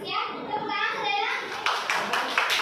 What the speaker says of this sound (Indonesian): tepuk tangan Helena.